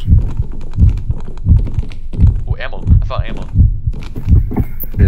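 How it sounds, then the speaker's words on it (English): Horror video game Fear Therapy plays a steady thudding heartbeat, about one double thump per second, loud and close, continuing evenly while a voice speaks briefly over it. "Well, my heartbeat's being really fast"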